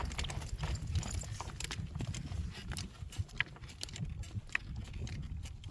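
A horse's hooves clip-clopping at a walking pace on a hard surface, a steady plodding rhythm with outdoor background noise.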